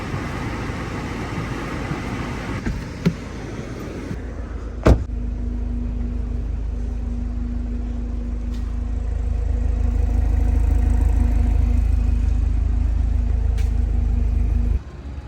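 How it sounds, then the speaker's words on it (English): A 2021 BMW 330i xDrive idles steadily after a cold start in snowy weather, a low, even engine hum with a few clicks early on, rising slightly in level midway and holding alone without talk. "So that was a quick cold start on this 2021 BMW 330i."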